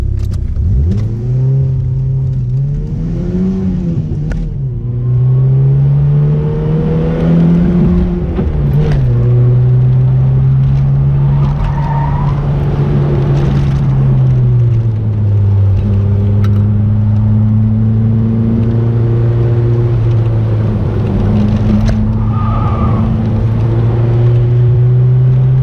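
A 1986 Bertone X1/9 with a 75-horsepower 1.5-liter Fiat single-overhead-cam engine drives along, heard up close from inside. The engine hums loudly, climbing in pitch as it accelerates, dropping at gear changes, then rising again through the gears.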